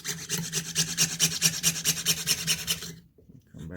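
Hand cutting through metal, held with pliers in a cramped spot, makes a steady close rasping rhythm of quick back-and-forth strokes for about three seconds before stopping short.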